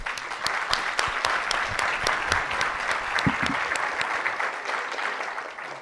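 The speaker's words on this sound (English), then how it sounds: "Let's give them a round of applause." An audience at a regional economic summit gives a panel a round of applause, dense steady clapping with sharp individual claps, holding for several seconds before tapering off at the end.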